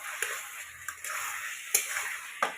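Potatoes, pointed gourd and egg, already fried in oil, are sautéed with ginger, garlic, cumin and coriander, giving a soft sizzle broken by a few sharp clicks of a spatula against the pan.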